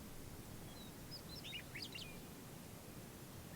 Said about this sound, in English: When they chirp, there's reverb that trails off for a good 5 seconds.